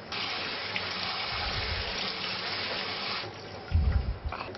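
Tap water pours steadily into a sink over drained tagliatelle for several seconds, then the flow shifts and splashes more heavily near the end.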